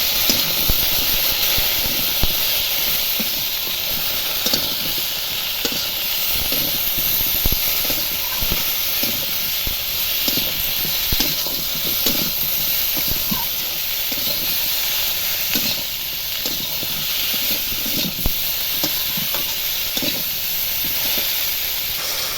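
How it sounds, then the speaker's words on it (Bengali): Taro (kochu) and fish sauté in a covered pan, giving a steady, loud hiss of steam and sizzling that runs continuously with faint rattles. "ঢাকা ঝাঁকা দিয়ে দিয়ে কচুটা কষিয়ে নেবো"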